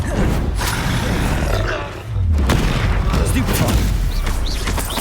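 A Confringo blasting spell explodes in Hogwarts Legacy amid combat, a loud close roaring boom with crackling blasts, briefly dipping before another burst, while a voice shouts over the chaos.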